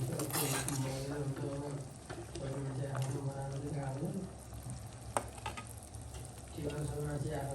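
Dried fish curry with pre-fried fish simmers and sizzles in a pan, a continuous frying hiss with occasional stirring clinks, while a person talks over it.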